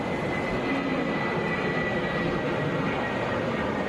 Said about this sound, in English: Headed to Cleveland, Airbus A320.